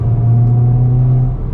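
Hyundai i20N hot hatchback, 2022, with its engine revving loudly and steadily up close, a deep droning tone holding for about a second and a half before easing off slightly.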